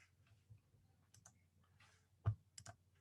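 A few quiet computer mouse clicks come in a sparse, irregular run during a save in a desktop publishing program. One sharper click stands out near the end against a quiet room.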